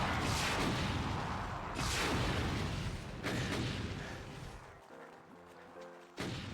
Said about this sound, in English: Oh God, the homing rockets.